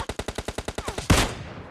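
Rapid burst of about ten sharp gunfire reports followed by one heavy blast in PUBG Mobile Lite, loud and close with no talking.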